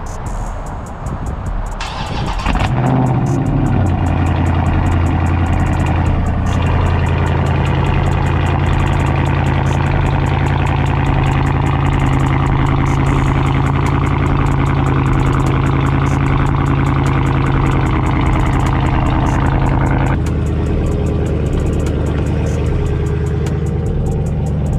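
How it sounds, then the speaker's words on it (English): A 2021 Dodge Charger Hellcat Redeye V8 fires up on a cold start with a sharp bark, then settles into a loud, steady, deep idle that drops slightly near the end. "You know we gotta get a little cold start, man."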